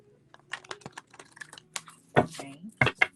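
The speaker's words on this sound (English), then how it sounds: "Do one more shuffle." Playing cards in a deck being shuffled up close, a quick run of soft flicks and riffling clicks ending in a few sharper snaps, with faint talk mixed in.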